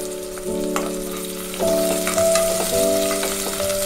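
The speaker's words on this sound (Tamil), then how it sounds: "வெங்காயம் பச்சை மிளகாய் வரமிளகாய் கருவேப்பிலை இஞ்சி எல்லாம் சேர்த்தாச்சு. நல்லா வதக்கி விட்டுடலாம்." Onion, green chilli, dried red chilli, curry leaves and ginger sauté in a pan for rice upma, with a loud, steady sizzle that swells as the pieces are stirred. Spoon scrapes cut in now and then.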